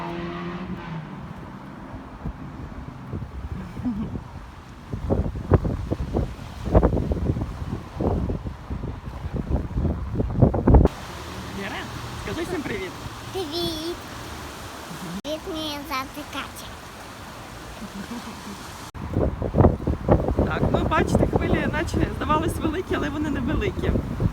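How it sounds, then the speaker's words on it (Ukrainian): Big ocean waves break on the Portuguese coast in gusty wind, with rolling crashes and a constant wind rush buffeting the microphone while people speak nearby. "Дивіться, які хвилі. Навіть звідси видно, що вони дуже великі."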